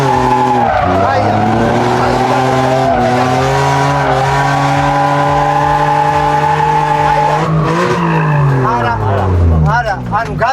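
A car drifts during a drifting lesson, its engine holding a loud steady rev while the tires skid and squeal continuously, the pitch sagging near the end as the slide winds down; voices talk over it.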